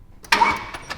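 A supercharged BMW E92 M3 engine cranking and catching: a sharp burst after a brief lead-in, followed by a short rough mechanical churn with a couple of faint pulses, close and fairly loud, no voices.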